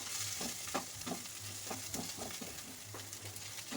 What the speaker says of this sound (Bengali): খুব ভালো করে পেঁয়াজটাকে এভাবে নাড়াচাড়া করে নেব